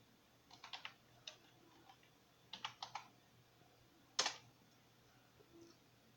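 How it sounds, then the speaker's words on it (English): Scattered keystrokes on a computer keyboard come in short clusters of taps followed by a sharper key press, quiet and close with no speech. "just going to type in active"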